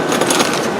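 A quick metallic clatter of bolts dropped together into a Jeep 4.7 cylinder head, a short close jingle with no talking.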